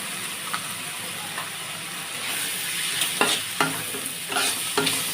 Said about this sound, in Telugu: సాసు మొత్తం కలిసేటట్టు బాగా కలిపేసుకోవాలి.